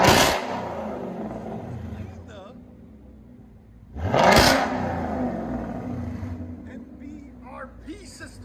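A car engine revs hard twice through an MBRP 3-inch exhaust, each loud, close blip rising sharply then settling into a rumbling idle between revs.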